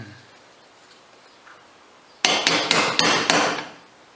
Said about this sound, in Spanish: y ahora le damos unos golpecitos.